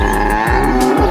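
Loud, deep cow mooing from a game, a couple of low drawn-out calls close up over a busy, dense background of tonal game sounds, with no talking.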